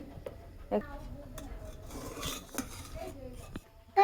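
Egg dish stirred in a cooking pot in a village home kitchen, scattered metallic scrapes and clinks of a utensil against the pot, with a louder clank near the end.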